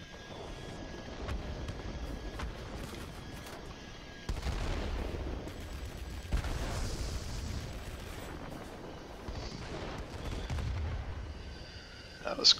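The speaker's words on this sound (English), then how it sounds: "We're going to drop our ordnance first." Aircraft bombs and ordnance exploding in World of Warplanes over the Road to Rome garrison, a run of rumbling, booming blasts layered over steady engine drone, with a louder crack near the end.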